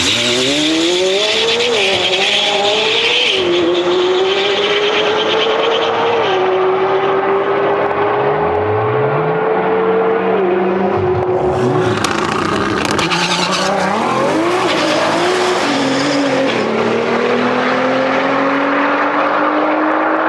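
A fully built 1900hp twin-turbo Lamborghini Huracan makes a drag run: a loud, close engine roar rising through the gears with sharp shifts, tire chirp, then a long fading pull and a second car's wail.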